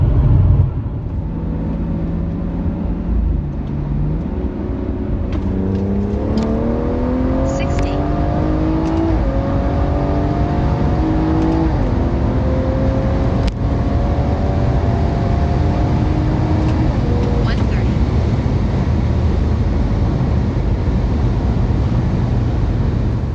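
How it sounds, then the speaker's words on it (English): A BMW 340i pulls hard from 60 to 130 on a highway, its engine note climbing steadily through the gears in loud, continuous rising sweeps with brief dips at each shift, heard from inside the car. "let's head to the highway and let's see how this car performs on a 60 to 130"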